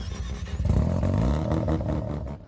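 A race car engine in the Roblox game Jailbreak cranks and roars to life, a loud rumbling startup that settles into a steady idle.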